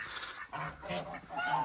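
Geese on a small hobby farm honk in short, nasal calls, several overlapping honks in quick succession at moderate distance.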